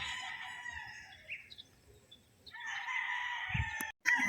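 Game farm stag roosters crow in two long, drawn-out calls at close range, with faint clucking and low background rustle between them.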